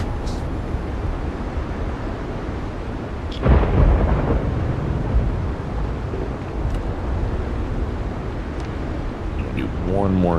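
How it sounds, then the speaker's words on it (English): Thunderstorm in the video game Windrose: steady rain-like roar throughout, with a loud rumbling thunder crack near the middle that slowly rolls off, plus faint creaks of a ship. "the storms sound amazing in this game"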